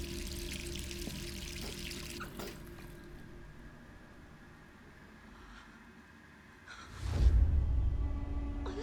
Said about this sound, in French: Ah, le robinet, le gaspillage.